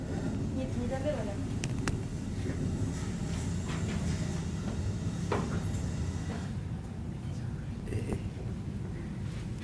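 A train running on rails with a steady, loud rumble and low hiss throughout, with faint clicks and metallic squeals on top and people talking beneath it.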